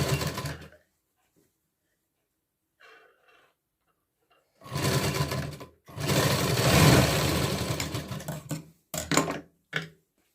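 A sewing machine stitches a katori blouse in several loud, close bursts of rapid mechanical whirring, separated by quiet pauses, with short stops near the end.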